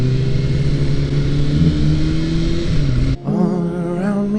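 A straight-piped Nissan 350Z drifting, its engine holding a loud, steady, raspy drone that shifts and briefly dips near the end, up close with no talking.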